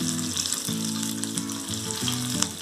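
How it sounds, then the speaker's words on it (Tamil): Chopped shallots sautéing in oil in a pan for South Indian agathi poo gravy, giving a steady loud sizzle punctuated by a few stirring scrapes. "கட் பண்ண சின்ன வெங்காயம் 5 வெங்காயம் எடுத்திருக்கேன். அதையும் போட்டு நல்லா வணக்கி விட்டுடலாங்க."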